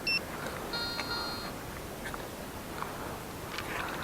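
A metal detector sweeping across a farm field gives short electronic beeps, a brief tone at the start and a longer sustained one after, faint against rustling and handling noise.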